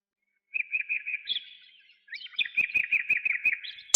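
Small bird in a forest chirping in quick repeated high trills, two bursts separated by a short pause, with a few sharp clicks in the second burst; clear and fairly close, no talking.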